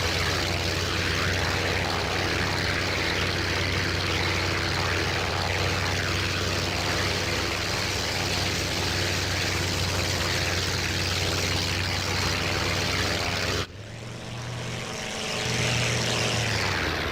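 The A6M2 Zero's propeller engine in IL-2 1946 drones loud and steady for a long stretch, then drops sharply as the throttle is pulled to idle, leaving a softer rising whine and rumble, with no talking.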